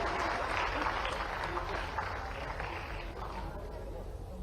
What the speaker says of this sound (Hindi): जोरदार तालियों के साथ आग्रह करें माननीय यशस्वी मुख्यमंत्री डॉक्टर मोहन यादव जी से